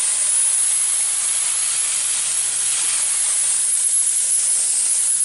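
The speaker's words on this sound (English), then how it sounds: "you keep it for about 6 inches away from where you're spraying, and it should be fine" Aerosol paint sprays in one continuous hiss about six inches from Tiger tank model tracks being weathered, close and steady throughout with no pauses or talk.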